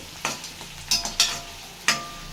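Shallots frying in a pan for rava upma, stirred with a spoon: a soft background sizzle broken by four or five distinct scraping strokes against the metal.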